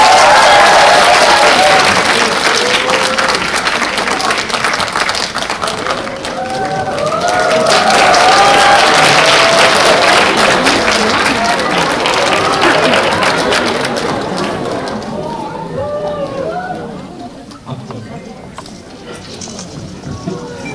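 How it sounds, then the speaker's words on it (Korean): A packed cinema audience at a film stage greeting claps loudly to welcome the director and actors, swelling with shouts and cheers before tapering off to scattered claps and murmuring. "저희 감독님과 배우분 모시고 인사드리도록 했습니다. 심차 박수 부탁드릴게요."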